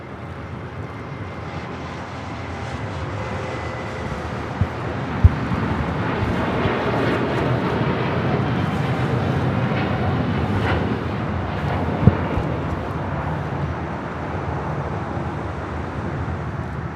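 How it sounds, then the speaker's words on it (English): An El Al Boeing 787-9 Dreamliner takes off from LAX bound for Tel Aviv, its engines producing a sustained, broad jet roar that holds steady and loud throughout, with a couple of faint clicks. "This is LL Flight 6 taking off to Tel Aviv on a 787-9 Dreamliner in the Jerusalem of Gold livery."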